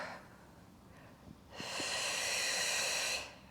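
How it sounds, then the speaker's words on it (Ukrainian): A person breathes in a posture breathing exercise: a soft, faint inhale followed by a long, loud, steady exhale through the mouth lasting over a second, close to the microphone. "Вдих. Видих. Вдих."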